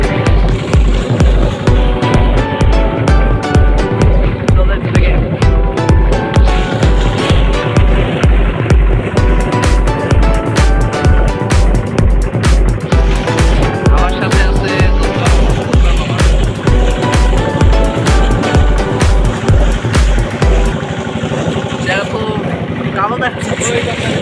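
A loud boat engine chugs in a steady, rapid rhythm throughout a ride on the Teesta river, drowning out nearby voices and cutting off shortly before the end.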